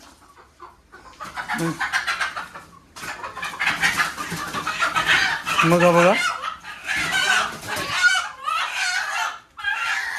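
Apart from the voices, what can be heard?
chickens clucking and rooster crowing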